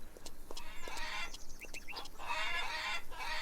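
Chickens cluck and squawk on a farm in Farmer's Dynasty, several short calls in quick succession, moderately near over a soft background hiss.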